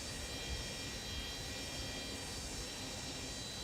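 Boeing 727F jet engines taxiing in Microsoft Flight Simulator, a steady broadband rumble and whine that holds at an even level throughout with no talk over it.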